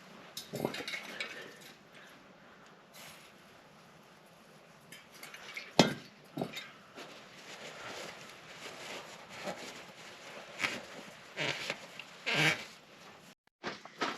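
Scraping remnants of an old seal's glue out of a Suzuki DR350 engine case, a series of close, uneven scratching and clinking strokes of a metal tool, irregular and fairly quiet with brief louder scrapes.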